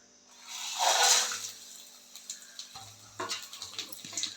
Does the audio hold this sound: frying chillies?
yes